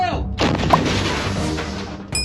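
A single heavy artillery gun blast from a Ukrainian army artillery crew booms loud and close, its broad roar rolling out and sustaining for about two seconds.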